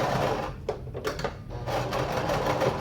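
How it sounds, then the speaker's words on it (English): Sewing machine stitching fabric for a homemade cross stitch scroll rod, a close, steady mechanical whirr with brief pauses and stops, no talking over it. "this is the reverse button on my sewing machine"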